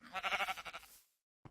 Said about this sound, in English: let's breed these sheep.